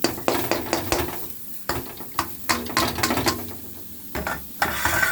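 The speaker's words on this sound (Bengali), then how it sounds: "তিসিটা শুকনো কড়াইতে ভেজে নিচ্ছি।" Flaxseed dry-roasting in a dry pan gives a scratchy, rattling stir, repeated scraping strokes that come in uneven bursts with short pauses between them, close and clear.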